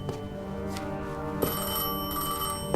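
A telephone rings in the video game Destiny 2 with a steady, repeating electronic trill, clear and close, with no voices.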